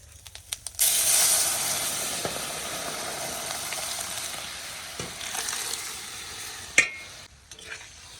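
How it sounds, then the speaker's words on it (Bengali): Dal is poured into a pan of fried ginger paste and spices: a sudden rush of loud hissing sizzle that holds steadily for several seconds, with a sharp clink near the end. "এগুলো ভাজা ভাজা হয়ে গেছে এবার আমি ডালটা ডাইলে দিই"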